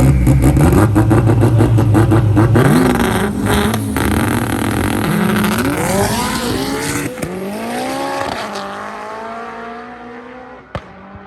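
A bolt-on sixth-generation car making a drag racing pass: loud engine roar rising through repeated gear changes, with strong revving sweeps that fade as the car pulls away, heard alone with no talk.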